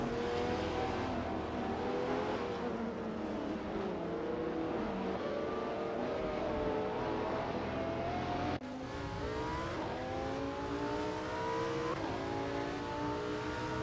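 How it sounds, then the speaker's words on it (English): AI-driven hypercars race in a racing simulator game, with a loud, continuous high engine whine holding throughout and a sudden shift in pitch partway as a car changes gear or the view switches, with no talk. "We are currently watching racing cars driven by AI in a racing simulator"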